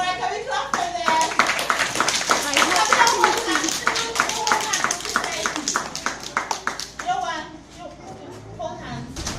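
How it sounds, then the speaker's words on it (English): Young children in an early-years storytelling group clapping their hands in quick uneven bursts, with children's voices chattering throughout and the clapping tapering off near the end. "All right, can we clap for them?"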